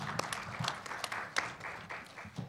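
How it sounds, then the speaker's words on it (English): Audience applause at a journalists' conference, a short patchy round of clapping in a hall, with a few distinct louder claps over a thinner background. "Please give her a big applause."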